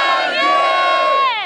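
A crowd at a street rap battle in Guarulhos, São Paulo, yelling together in one loud, sustained shout that swells and then fades slightly, with overlapping voices throughout.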